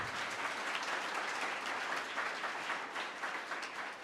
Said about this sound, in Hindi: एक बार जोरदार तालियों के साथ आज के अतिथियों का स्वागत करें